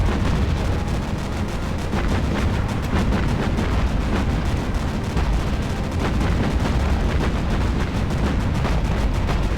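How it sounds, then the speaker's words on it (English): Anti-aircraft flak and machine gun fire from a warship in the naval combat game Battlestations Pacific, a dense, continuous barrage of rapid booms and bursts filling the whole stretch with steady loud intensity and no pauses. "they can be easily destroyed by flak and machine gun fire on the ship"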